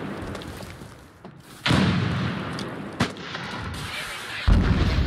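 A frag grenade blast in the shooter America's Army, with heavy, booming detonations and sharp reports over constant battlefield rumble.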